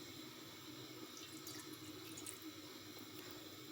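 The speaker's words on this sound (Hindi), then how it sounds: "इसमें मैं 1 कप पानी डालूँगी।" Water poured into a kadhai on a lit stove while making tikka magaz, a steady faint splashing flow that lasts throughout with no talking.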